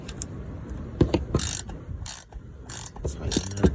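A ratchet wrench clicks in short, uneven bursts as bolts are tightened during a brake pad replacement on a 2016 Dodge Charger RT, with sharp metallic ratcheting and clunks of tools close by.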